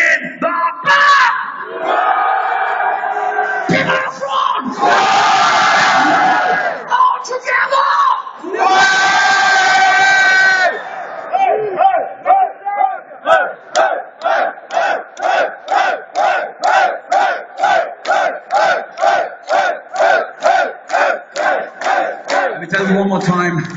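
A large metal concert crowd yells and roars loudly in bursts, then breaks into a steady rhythmic chant of repeated shouts, loud and close.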